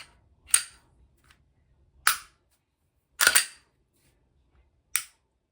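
A Glock 30 pistol, a brand-new handgun, gives four sharp, crisp mechanical clicks from its trigger, spaced unevenly over a few seconds. The clicks are loud and close, with near silence between them.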